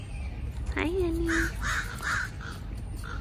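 A crow caws several times outdoors, a series of short, harsh calls at moderate distance, while someone talks nearby.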